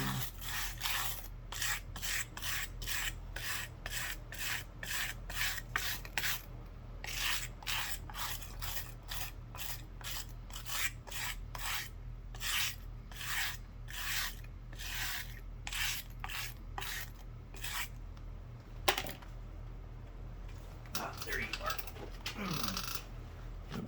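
Rhythmic back-and-forth rubbing of sandpaper by hand, a rapid, even series of close rasping strokes over a steady low hum, with a brief clatter and scrape near the end.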